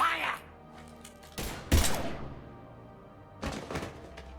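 Gunfire in the video game Mass Effect 3: a few sharp, heavy shots and thuds in separate bursts, close and punchy, with voices around them.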